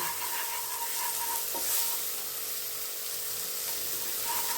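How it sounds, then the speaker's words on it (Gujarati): Asafoetida and green chilies sizzle in hot oil in a pan, a steady loud hiss with a few faint clinks, no one talking. "એક ચમચ હિંગ નાખી દઈએ આ લીલા મરચાં બે લીલા મરચા છે એ અંદર એડ કરી દઈએ"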